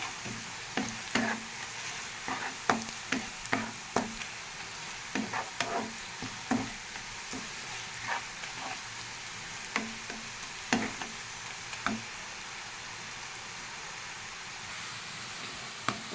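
Chopped onion slowly frying in oil, a soft continuous sizzle punctuated by repeated light taps and scrapes of a spatula stirring the pan, fairly close and unhurried.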